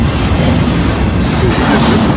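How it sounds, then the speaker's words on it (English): A train rolling right down the middle of a town's Main Street, a loud, close, continuous rumble and rattle of wheels and cars filling the whole moment with no voices. "you just don't see trains running right down the middle of Main Street like this very, very often."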